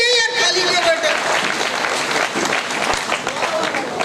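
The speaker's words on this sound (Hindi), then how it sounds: "ताली बजा दीजिए यार, खाली क्यों बैठे?" Audience at a patriotic poetry recital breaks into applause, a dense clapping wash that carries on while a voice speaks over it.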